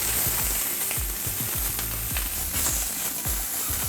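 Chicken thighs sear in a dry carbon steel pan with no oil, giving a steady close sizzle and crackle punctuated by repeated popping spits, with no voices.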